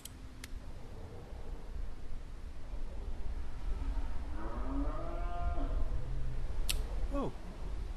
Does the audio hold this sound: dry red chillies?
no